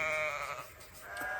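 A sheep near a fenced pasture lets out a single wavering bleat, fairly faint and alone against quiet outdoor background.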